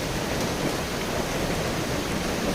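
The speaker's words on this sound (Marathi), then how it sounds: "किती जोरात पाऊस पडतोय तुम्ही तिथे बघू शकता" Heavy rain falling hard, a thick, unbroken roar of water filling the whole stretch at a steady loud level, with no voices.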